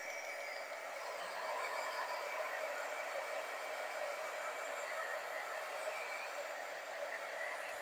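An embossing heat gun blows a steady, close whirring rush of hot air to dry paint on a craft broom project, continuous and unbroken throughout with no talking.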